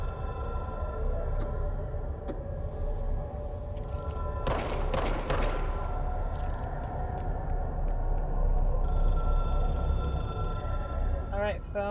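A telephone rings in the Control video game, a repeating electronic trill over a low ambient hum, with a burst of crackling noise in the middle.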